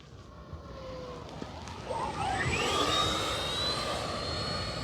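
An FMS Yak 130 70mm electric ducted-fan RC jet makes a full-flap landing pass, its whooshing whine swelling from faint to loud and sweeping by with a falling pitch.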